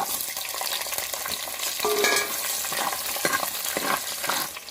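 Garlic, curry leaves and small shallots fry and sizzle in hot oil in a pan, with a steady crackle and occasional stirring scrapes, close and fairly loud with no talking.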